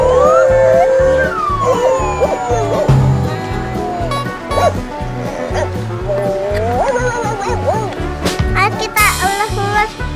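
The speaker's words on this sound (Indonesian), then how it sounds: "Kalau kita lewat, anjingnya bisa menggonggong." A toy dog in a toy store gives electronic barks when someone walks past, sounding among bright tonal toy music and children's voices in a busy, loud shop.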